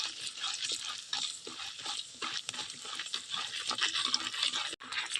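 Lentils (dal) roasting in a pan for a millet rava upma, giving a steady faint dry sizzle and scratching, with soft stirring strokes throughout and one brief dropout near the end.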